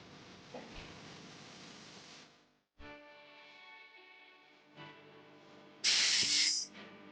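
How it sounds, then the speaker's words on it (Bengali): A soaked spice paste for a vegetarian kudri and potato dish goes into hot tempering oil and sizzles with a steady hiss, breaking off briefly before flaring into a sharper, louder sizzle near the end. "ফোড়নের ভাজা গন্ধ বেরোলে ওর মধ্যে ভিজিয়ে রাখা মশলার পেস্টটা দিয়ে দিই।"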